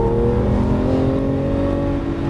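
A Lamborghini Aventador LP700-4 accelerates at full throttle, its engine a loud, close, rising drone with rich harmonics climbing steadily in pitch for a couple of seconds, no voices over it.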